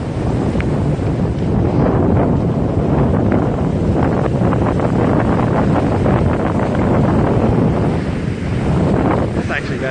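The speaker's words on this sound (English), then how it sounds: "It's just so windy." Strong, constant wind buffeting the microphone at a Southern California beach, a loud roaring rumble that never lets up for the whole stretch.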